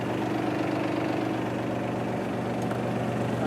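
Engine of a weeding robot machine idling steadily out of gear, a continuous mid-low hum with constant level throughout and no voices.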